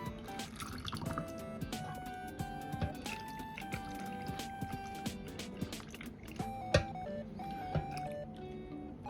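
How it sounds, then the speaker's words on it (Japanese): Hot, freshly made syrup poured into a glass jar packed with apricots, giving a steady liquid trickle with drips and small glassy clinks close up, and no talking. "シロップももう作りたて熱々の状態で入れていきますね"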